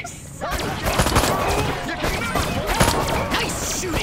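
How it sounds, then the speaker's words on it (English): A disintegrator ray fired in the remake of the game Destroy All Humans, loud rapid crackling zaps in dense repeated bursts against a busy mix of game effects. "So I'm unlocking your disintegrator ray. Try it out on the fuzz."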